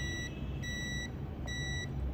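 Multimeter on continuity test beeping while probing the coils of an LED TV display panel: three steady high beeps, each about half a second long, evenly spaced over a constant background hum.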